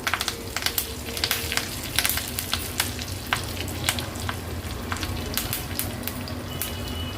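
Hot oil sizzles steadily up close as spices, asafoetida and curry leaves are tempered, with sharp crackles and pops scattered throughout and no voices.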